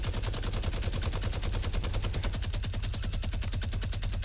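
Rapid automatic gunfire in a video game firefight, a dense continuous stream of loud evenly spaced shots running the whole time with no pauses and no talking.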